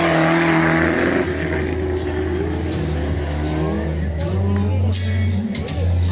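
An off-road rally car sets off at the start ceremony of the Petlas Turkish Offroad Championship in Vezirköprü, Samsun, its engine loud and close, revving and rising in pitch as it pulls away, with crowd and announcer voices underneath.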